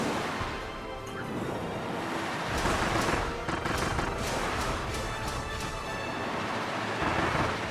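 A storm tornado attack in Kirby and the Forgotten Land roars as a dense, continuous rush of swirling wind, thunderous rumbling and crashing impacts that surge louder midway, with no talking.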